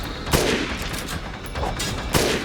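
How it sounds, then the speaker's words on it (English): Sniper rifle fire in the video game Dead Rising: two sharp, loud gunshot cracks about two seconds apart, each with a brief ringing tail, over a steady background of game ambience. "just keep using the sniper rifle, keep going for headshots"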